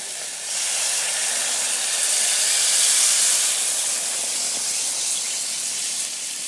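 Water poured into a hot pan while cooking raw hilsa fish, giving a steady broad hiss of steam that swells and then settles over several seconds, with no one talking.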